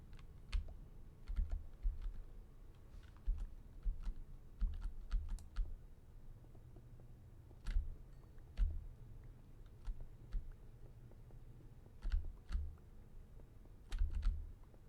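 Computer keyboard and mouse used while playing Minecraft, with quick irregular bursts of close, soft key clicks and taps, some in rapid clusters, separated by short quiet gaps, with no talking.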